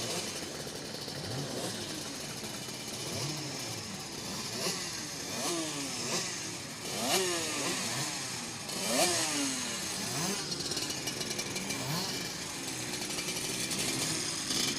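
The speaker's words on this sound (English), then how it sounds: "the dummy grid, a real humdrum of noise at the moment as the driver's trying to warm up the engines ahead" Superkart engines warm up on the dummy grid at Cadwell Park before a British Superkart Championship final, a loud harsh buzzing drone with repeated sharp revving sweeps rising and falling from several karts.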